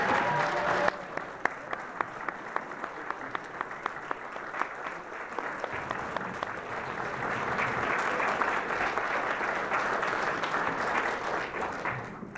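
Sustained applause from an audience at an education conference, steady and dense throughout with a few sharper claps standing out early and no talk over it.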